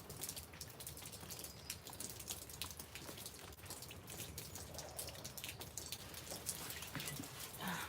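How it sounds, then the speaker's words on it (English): Steady rain patters outdoors as a dense, continuous hiss of drops striking surfaces, with scattered louder individual drips standing out throughout and no voices. "My feet are getting rained on."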